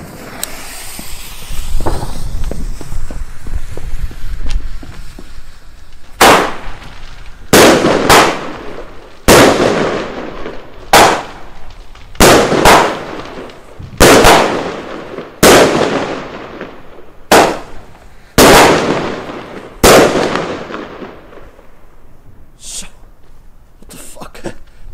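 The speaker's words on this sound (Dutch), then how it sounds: "Hier zo de Zena Blue Salute 7 shot salute potje uit de fabriek van Argento." A Zena Blue Salute 7-shot salute firework cake made by Argento fires outdoors, sending about seven loud, sharp bangs in an uneven rhythm, each with a short echo, after a faint crackling fuse.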